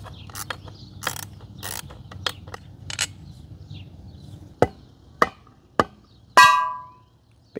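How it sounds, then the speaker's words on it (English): Working on the wheel lip of a Nissan 240SX with a tool, a series of soft clicks and rattles followed by four sharp metallic knocks and a ringing clank, close by with no talking. "I'm going to start loosening all 3 of these bolts up"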